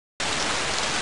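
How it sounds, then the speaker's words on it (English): Heavy rain in the video game Sammy's Science House: a dense, steady hiss of downpour that cuts in abruptly after a moment of silence and holds loud and constant. "Today is hot with heavy rain and strong winds."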